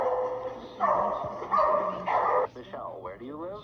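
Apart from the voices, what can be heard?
dogs barking in a played video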